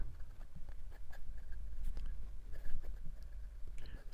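A Gravitas stainless steel pocket fountain pen with a size 8 Jinhao nib scratches across Clairefontaine 90 gsm paper in close, quiet strokes and short pauses.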